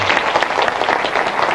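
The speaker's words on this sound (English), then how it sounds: "give him a big hand and a big round of applause" An audience at a business seminar claps loudly for a speaker coming to the stage, a dense, continuous burst of applause from a crowd.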